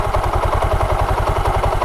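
A Hero Platina H-Gear motorcycle's engine idles close by while its carburetor mixture is adjusted, producing a steady, rapid, even thumping pulse at constant loudness.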